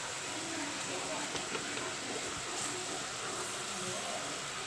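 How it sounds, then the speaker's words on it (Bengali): Tomato fries in a pan while being stirred and cooked down, a soft steady hiss and sizzle running quietly throughout, with a voice faintly present. "টমেটোটা একটুখানি কষিয়ে টুষিয়ে কাঁচা গন্ধটা যতক্ষণ না যাবে ততক্ষণ একটু কষাবো।"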